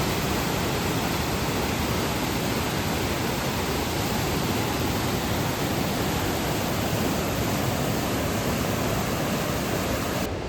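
A swollen mountain river near Lourdes rushes after heavy rains, a dense, loud, unbroken roar of churning water heard up close for the whole stretch, with no voices.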